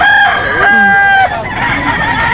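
A mature rooster crows close by at a busy poultry market, a loud, strained cock-a-doodle-doo over murmuring crowd noise.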